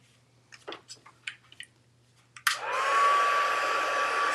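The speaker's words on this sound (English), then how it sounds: "I am going to set it far away from the heat tool, which I have plugged in behind me." A craft heat tool switches on, its steady loud blowing hum with a rising whine starting partway through after a few soft clicks and handling noises.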